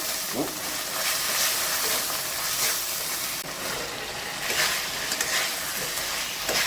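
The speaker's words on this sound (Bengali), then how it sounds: "মূলো আলু ভালো করে কষিয়ে নেব।" Radish and potato pieces sauté in ground cumin, coriander, dried chilli and garlic paste with salt and turmeric, a continuous close sizzle with stirring scrapes throughout.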